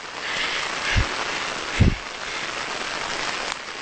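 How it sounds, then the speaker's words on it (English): Hard pouring rain falls steadily on a mountain hiking trail, a constant broadband hiss throughout with two brief low thumps near the start. "With hard pouring rain"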